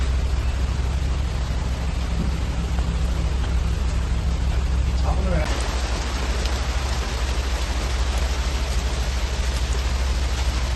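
Heavy rain pours steadily in Kerala, a dense continuous hiss that grows rougher and louder about halfway through, with a low rumble beneath.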